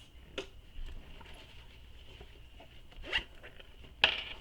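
A zipper on a handbag is pulled closed in a few quick, near rasps, ending in one brighter zip, with faint handling noise between strokes.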